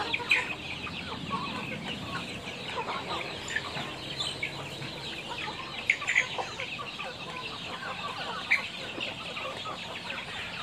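Free-range village chickens fed corn and chopped banana stalk cluck steadily in an outdoor flock, with overlapping calls near and farther off and occasional sharper squawks.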